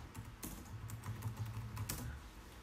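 Quick, light keystrokes on a computer keyboard patter in an irregular stream of soft clicks, quiet and close, with no voices.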